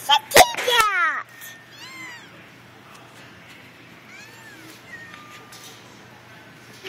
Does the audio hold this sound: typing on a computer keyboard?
no